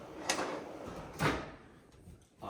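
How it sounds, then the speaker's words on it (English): Self-closing custom kitchen cabinet drawers and doors shutting on their own, giving two soft sliding thuds followed by a fainter third close, in a quiet room. "Everything is self-closing, as you see. You open something up and it'll close itself. And then the drawers as well."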